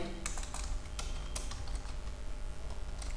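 Name being typed on a computer keyboard into an MS Word document, a quick run of close, crisp key clicks in an uneven rhythm over a quiet room, with no talking.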